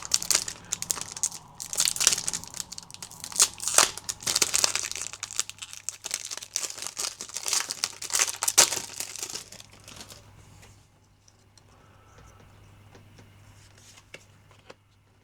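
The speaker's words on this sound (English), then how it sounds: "Let's go, speed opening. Hope these packets rip better than the foils." My Hero Academia League of Villains first edition trading card packets are torn open in quick succession: busy crinkling and ripping foil and paper for about ten seconds, then near quiet with a few soft rustles.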